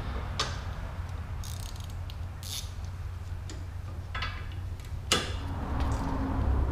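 Ratchet tightening brake caliper bolts on a Mazda Miata during a big brake kit upgrade, giving several sharp clicking bursts spaced irregularly, up close in a quiet garage.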